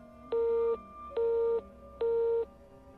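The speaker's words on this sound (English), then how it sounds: "A moment later, the line clicked off." A telephone busy tone after a call is cut off: three steady, evenly spaced beeps, fairly close and clear over a faint line hiss.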